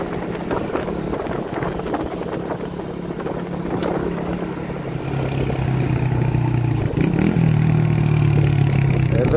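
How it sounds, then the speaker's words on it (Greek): A small motorbike idles close by on a narrow street, a steady low putter that grows louder and rougher partway through, with wind buffeting the microphone and no talk. "Καλό το μηχανάκι, καλό."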